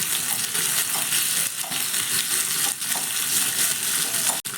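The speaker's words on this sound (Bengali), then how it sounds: "এবার টমেটোটাকেও সঙ্গে একটু নাড়াচাড়া করে ভেজে নেব।" Tomato frying in a pan and being stirred, a loud continuous sizzle with repeated scraping strokes of the spatula and a sharp knock near the end.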